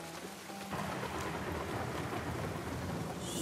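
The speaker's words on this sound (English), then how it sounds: "Sheesh, Thunder." Heavy rain pours steadily in The Last of Us while a thunderclap breaks in early and rolls into a dense, loud downpour that fills the whole stretch.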